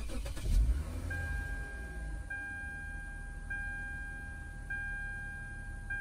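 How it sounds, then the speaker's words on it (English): Lexus car from the 2006-2008 range starting up with a newly programmed smart key: a brief low engine burst at the start, then a steady idle, with repeated thin chime tones sounding over it. "Step 9, start the car."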